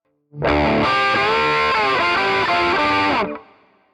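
A distorted electric guitar plays a solo passage from a song at full speed, with a quick run of sustained, bending notes, loud and up front with nothing else over it.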